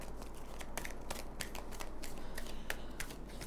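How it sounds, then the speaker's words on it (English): Tarot cards are shuffled with a quick, soft, rapid riffle of papery flicks over a steady low hum. It sounds quiet and close, with no talking. "Just bear with me a moment as I shuffle and deal the cards for you."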